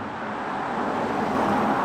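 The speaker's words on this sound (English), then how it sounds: "we're traveling at 52 miles an hour, and as you can hear, the car is beautifully quiet." Subdued road and tire noise inside the cabin of a BMW i5 M60 electric sedan cruising at 52 mph, a soft steady hush with no talking.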